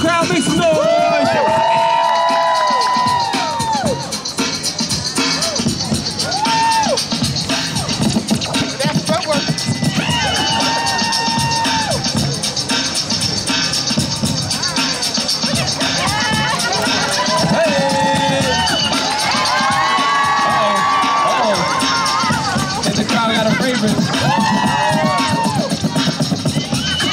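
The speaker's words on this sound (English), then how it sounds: "Come on, crowd, make some noise." Festival crowd at a street breaking battle on Atlantic Ave, a dense wash of cheering, shouting and babble that stays loud throughout, with a voice talking over it and music-like tones drifting through.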